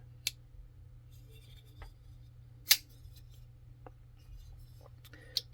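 A Kansept Tarkin folding knife is worked open and shut, giving a few sharp, quiet clicks spaced a couple of seconds apart over a near-silent background.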